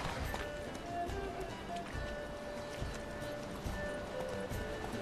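A horse in The Witcher 3 trots with steady, soft clip-clopping hooves under low ambient game sound, fairly faint and continuous with no voices.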